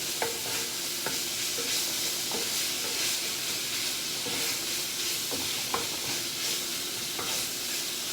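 Italian sausage with a little seasoning sizzles steadily in a frying pan, and a utensil stirs it now and then with sharp scraping knocks against the pan. Nobody talks.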